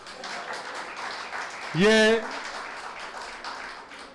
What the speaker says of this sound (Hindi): ताली पीट दो एक बार